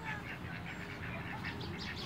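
Faint, steady chorus of quacks from a group of young ducks near their mother on a farm, with soft rustling and a low background hum.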